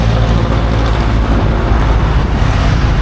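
Heavy road traffic rumbles by continuously, a loud, close drone of many vehicles with a deep engine hum and no clear gaps or talking.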